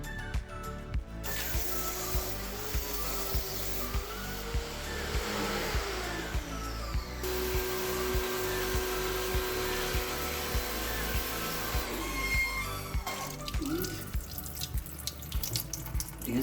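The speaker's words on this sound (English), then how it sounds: "I'm going to use my pressure washer to try and drive these things down" A pressure washer sprays water down bathroom drains to clear them. The hiss is steady and continuous under a rhythmic motor pulse, close and fairly quiet, with a short change in the spray near the end.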